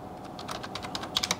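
Quick, light keystrokes on a Logitech K480 Bluetooth keyboard: about a dozen close clicks in an uneven run, ending with a few sharper taps.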